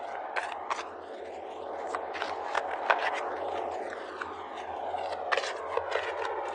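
Tarot cards being shuffled by hand: a run of crisp papery flicks and scraping riffles in irregular bursts, close and fairly soft over a low steady hum.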